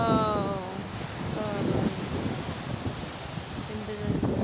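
Big ocean waves break on the beach at Mooloolaba, making a steady, rushing roar of surf mixed with wind buffeting the microphone, while people talk over it at times.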